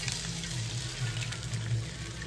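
Water streams steadily into a cooking pot on the stove, about 1.5 litres poured in one continuous, fairly faint hissing rush with no talk.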